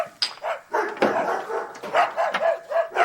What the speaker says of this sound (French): 2 chiens qui jappent tout le temps